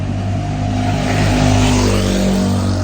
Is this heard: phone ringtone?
no